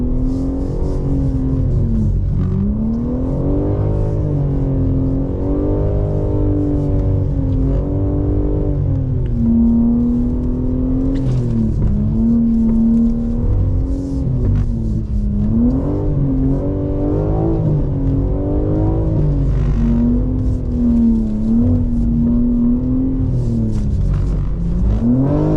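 A 2024 BMW M4 Competition xDrive drifts on an asphalt skid pad, its engine holding a loud, sustained roar close up that rises and falls in pitch as the throttle is worked through the slide, with no voices.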